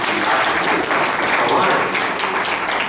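Steady, dense applause from an audience at a speech in Vrindavan Hall, holding at an even level throughout with no voices standing out.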